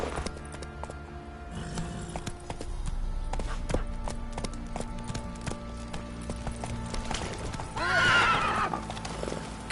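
Roach, a horse in the video game The Witcher III, neighs and whinnies over steady galloping clip-clop hoofbeats, with game music and ambience beneath and a loud whinny near the end.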